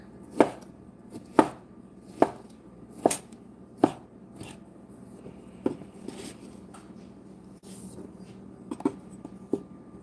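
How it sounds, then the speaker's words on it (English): A knife chops leftovers for muffins on a board in sharp, evenly spaced thuds, about a dozen close strikes over the span, slowing and softening toward the end. "I'm just going to chop this up."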